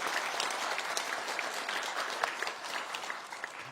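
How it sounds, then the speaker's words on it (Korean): A church congregation claps for one another in a steady, dense burst of applause that fills the room at even loudness throughout. "여러분들 서로 위해서 박수를 좀 쳐주세요."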